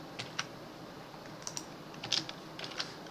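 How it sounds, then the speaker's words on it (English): Quiet typing on a computer keyboard while entering an address during ESP32 Wi-Fi setup, with scattered clicks and a short burst of rapid keystrokes partway through, heard alone over faint room noise. "so I'll have to do all that typing"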